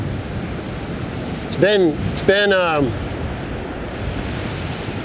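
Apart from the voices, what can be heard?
ocean surf waves on a windy beach near Orick, California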